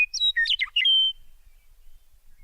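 Small bird chirps in a cartoon, a quick burst of several bright, high tweets and trills close up, then quiet.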